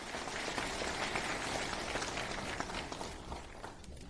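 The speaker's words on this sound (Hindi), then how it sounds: "एक बार सभी के लिए जोरदार तालियां बजा दें" Sustained, even applause from an audience at a political event in Lucknow, dense and steady throughout with no talking over it.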